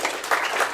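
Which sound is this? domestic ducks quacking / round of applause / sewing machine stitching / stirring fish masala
round of applause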